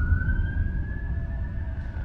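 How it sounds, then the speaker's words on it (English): An emergency vehicle siren sounds outdoors as one long, steady wail over a low rumble of street noise, moderately close. "Apologies for the siren."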